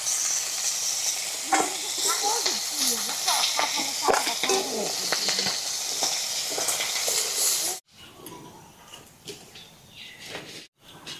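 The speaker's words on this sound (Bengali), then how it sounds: "হালকা করে কাঁকড়া ভাজে নিচ্ছি" Small crabs sizzle loudly and steadily in hot oil for about eight seconds, with stirring scrapes on top, then a cut leaves a much quieter kitchen background.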